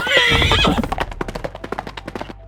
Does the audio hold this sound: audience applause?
no